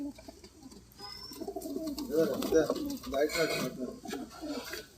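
Pigeons with an eye disease, one eye closed, coo in low, soft rolling phrases that repeat through the stretch at moderate closeness, with a faint high whistle briefly above them.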